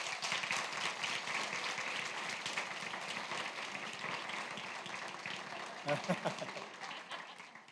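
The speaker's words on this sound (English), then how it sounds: "I think they need a round of applause, don't they?" Audience applause at a board of education meeting, a steady wash of clapping from a room of people lasting several seconds with some murmured voices mixed in, tapering slightly toward the end.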